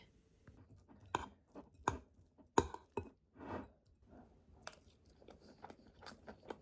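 Someone eats food doused in soy sauce and garlic, with faint, close bites and crunchy chewing coming in irregular bursts against a quiet room.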